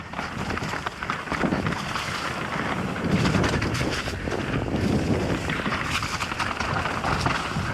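A Gen 3 Norco Optic mountain bike descends a trail at speed, with loud, steady wind roar across the microphone and rumbling tire and terrain noise throughout, no talking.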